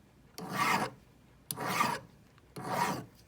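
Hand file rasping across the outside of a sand cast wedding band, three separate strokes in a steady rhythm, each a close, gritty scrape of about half a second with short pauses between.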